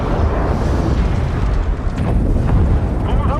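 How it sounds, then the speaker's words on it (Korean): A deep, sustained roaring blast fills the clip, dense and loud throughout like an ongoing explosion, with faint higher crackles near the end. "폭발!"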